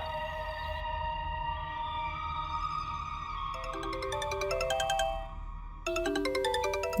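A phone ringtone plays a melodic electronic tune, shifting into a rapid repeating chime pattern, clear and close with no voices.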